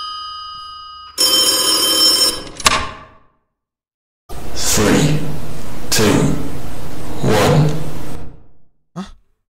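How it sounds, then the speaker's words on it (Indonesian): Telephone ringing on a night-time driving route in Route 8 comes as a loud electronic ring, then long swelling whooshing bursts follow with silent gaps between them. "Sebentar, ada suara telepon cuy."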